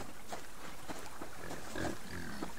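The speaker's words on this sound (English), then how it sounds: "Heard a pig." A pig in the survival video game Subsistence grunts and oinks in short rough bursts, faint and a little distant, over a steady wash of outdoor game ambience with no talking.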